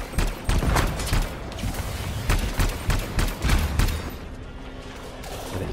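Rapid bursts of gunfire from a legendary weapon in Anthem crack out close and loud in an uneven rhythm, tapering off toward the end with no talk.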